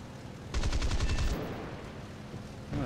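Aircraft cannon fire from a Tempest fighter in War Thunder: a rapid burst of heavy, rattling shots lasting under a second, followed by engine drone and a brief second noise near the end.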